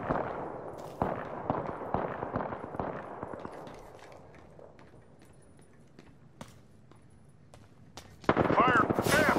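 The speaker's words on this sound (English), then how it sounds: "Hey, I'm getting shot." Gunfire in the battle royale shooter Apex Legends, bursts of rapid automatic shots crackling in clusters, loudest early and fading to sparse pops, then a sharp louder burst near the end.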